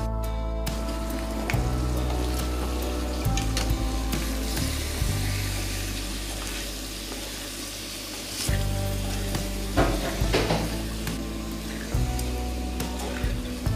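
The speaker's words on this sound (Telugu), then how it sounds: "బాగా ఫ్రై చేయాలి." Mutton blood frying with chili, coriander powder and salt, a loud bubbling sizzle throughout with occasional sharp spatters and stirring scrapes in the pan.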